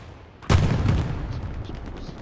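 A heavy gunshot bursts suddenly in a video game, where people shoot out of the windows of a building under assault, followed by a dense rumbling echo of continuing fire.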